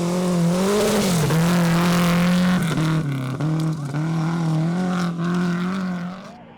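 A Datsun P510 Coupe rally car drives hard on a rally stage, its engine note loud and close as it revs up and down through several gear changes before fading at the end.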